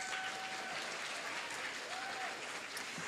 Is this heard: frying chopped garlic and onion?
no